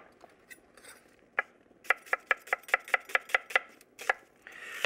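A sharp knife chops onion on a board in a steady run of about a dozen crisp, close strikes, with a few scattered taps before and after.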